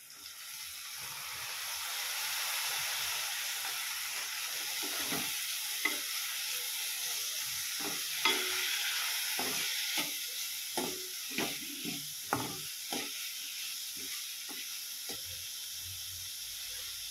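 Val bean pods sizzle softly in a hot pan with a little turmeric, while a spoon stirs and scrapes against the metal in repeated short knocks over the steady frying hiss.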